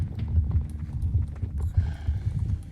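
A video-game horse, a newly acquired one, trots along with a quick, regular clip-clop of hooves, close and prominent, with a faint tonal background beneath.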